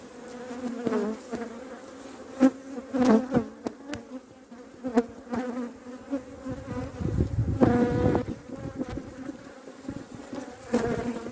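Honeybees buzz in a dense, swelling hum close by at a reopened hive, the drone rising and falling as many insects fly around.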